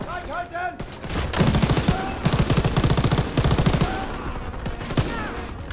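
Rapid bursts of automatic gunfire from Call of Duty WWII rattle loudly and continuously, with sharp single shots mixed in and faint background voices.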